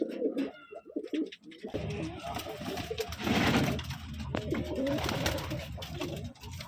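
Pigeons of a high-quality gerebaj breed coo in a loft in Rajshahi district. Soft, continuous cooing and fluttering layer over a low background hum, and no voices are heard.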